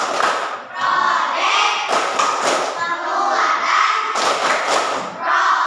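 In a classroom, a group of pupils chants in unison while clapping and thumping in a steady beat, voices and hand strikes rising together in regular loud pulses.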